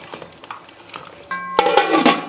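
Tomato puree and mutton stirred in a metal pot for a palak gosht, with scattered clinks of a spoon on the pot rim, then a louder burst of scraping and clattering near the end; no talk.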